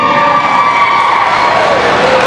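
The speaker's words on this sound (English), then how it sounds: "one small announcement would get the whole gym cheering" A crowd of soldiers and families in a gym cheers loudly and continuously, a dense wash of shouting and whooping with no clear voices standing out.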